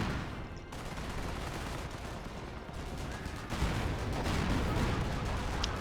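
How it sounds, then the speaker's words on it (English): Tank shells ricochet off M10 tank destroyers in the World War II strategy game Company of Heroes, set amid a steady, loud battle din of gunfire and artillery that grows heavier partway through. "A lot of rounds being bounced by the M10s"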